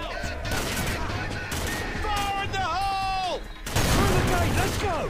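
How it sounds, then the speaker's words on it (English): Gunfire crackles through a Call of Duty 4: Modern Warfare firefight, dense sustained shooting mixed with whistling, tonal effects and a swell of louder fire near the end. "Who the heck is shooting at us?"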